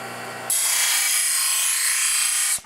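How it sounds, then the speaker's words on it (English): A power sander grinds an angle into a motor mount for an RC boat, starting abruptly and running as a loud, steady, harsh whir for about two seconds before cutting off, with no talking. "so we'll just go ahead and sand an angle"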